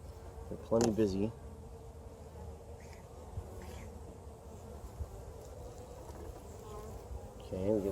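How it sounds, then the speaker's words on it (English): A faint bee buzz from a hive weaves through the background during an inspection, with a short loud burst of voice near the start and a brief voice at the end. "we got somebody buzzing us already."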